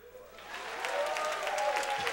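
A small audience claps at a comedy show on the topic of road rage, the clapping swelling from soft to steady and continuing for about two seconds, with faint voices among it.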